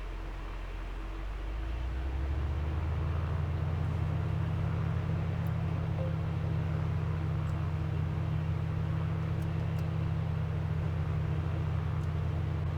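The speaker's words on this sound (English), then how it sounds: "We have been idling for a minute." Small airplane engine idling on the ground before takeoff, a steady low droning hum that swells within the first couple of seconds and then holds evenly, loud and close, with no talk.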